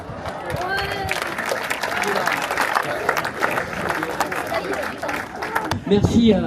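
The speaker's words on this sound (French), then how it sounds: "Merci à tous, on peut les applaudir" An audience at a foundation-stone ceremony for a Ricard building applauds, steady clapping mixed with crowd chatter and voices talking throughout, rising slightly at the end.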